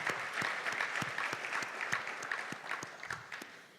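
Audience at a dinner session applauds, a room full of people clapping in a lively, uneven patter of distinct claps that carries on throughout without talk.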